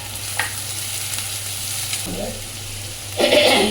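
Sliced onions and ginger frying in a pan for onion chutney, a continuous close sizzle with soft stirring, then a louder burst of spattering and scraping near the end, with no talking.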